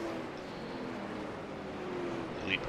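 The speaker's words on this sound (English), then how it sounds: "We got cars out for their 2-minute warm-up before this event." Late model race cars idle and rumble through a two-minute warm-up before a Late Model Shootout Series feature, a steady low engine drone that holds level across the clip, with a brief brighter blip near the end.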